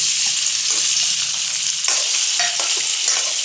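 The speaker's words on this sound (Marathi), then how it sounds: "आपलं तेल तापत आलेलं आहे हे बघा आता मी उकडून घेतलेले बटाटे त्याचे फक्त काप केले दोन बटाटे उकडून घेतले आता मी हे तेलात टाकते" Boiled potato slices dropped into hot oil, giving a loud, steady frying sizzle with a few soft clinks and stirring sounds, no talking.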